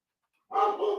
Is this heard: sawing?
no